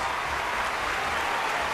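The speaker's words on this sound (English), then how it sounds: "Give these guys a big round of applause." Applause from an awards-show audience forms a steady, even wash of clapping throughout, moderately loud with no voices over it.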